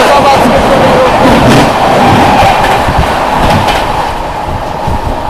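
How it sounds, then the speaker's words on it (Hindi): The Agra Lucknow Intercity Express rushes past Firozabad without stopping, a loud, close, continuous roar with rhythmic wheel clatter and a slight fade toward the end. "आगरा लखनऊ इंटरसिटी एक्सप्रेस आती हुई और फिरोजाबाद स्किप कर रही है।"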